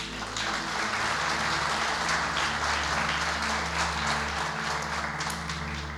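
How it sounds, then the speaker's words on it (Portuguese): Church congregation claps together in praise, a dense, even wash of many hands over a steady low musical hum, continuing throughout without a break. "Vamos aplaudir Jesus."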